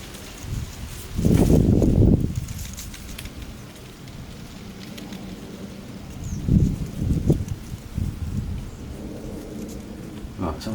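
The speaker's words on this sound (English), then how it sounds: "Yeah, it's quite windy." Strong wind blows outdoors in bursts, with a loud rumbling gust early on, later weaker gusts, and a light rustling hiss between them, with no talking.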